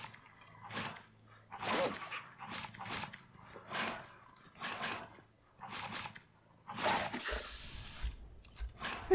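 Dogs barking in the video game Fallout 4, a run of loud, sharp barks and growls repeating roughly every second, with a harsher snarl near the end.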